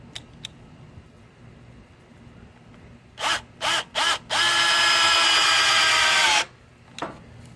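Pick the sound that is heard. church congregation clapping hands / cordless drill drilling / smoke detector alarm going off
cordless drill drilling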